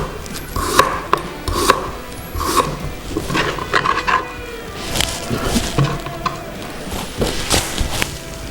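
A knife slices a cucumber on a wooden board for a teriyaki garnish in a steady run of close, crisp cuts with slight scraping and board knocks between them.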